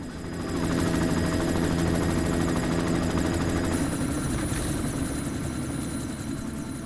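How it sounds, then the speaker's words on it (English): Helicopter in the video game Deus Ex: Mankind Divided, a steady loud rotor and engine roar that rises in and holds throughout, with no talk. "You've got to stop that chopper."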